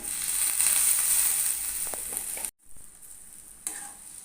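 Loud, steady sizzling of potatoes frying in a hot pan with black salt added, a few stirring scrapes, then the sizzle abruptly drops to a quieter hiss.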